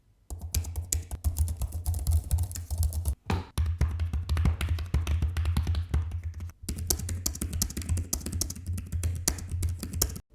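Rapid, continuous clicking of keys on a keyboard for an iPad, heard close and crisp with a couple of brief pauses and no talk.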